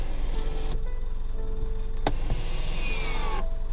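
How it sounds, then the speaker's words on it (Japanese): The electric parking brake on a new Mitsubishi Fuso Canter light truck pulls its cable, giving a short motorized whir, a sharp click partway through and a fading mechanical tail, heard close inside the cab. "ただワイヤーを電動で引っ張ってるってことですね"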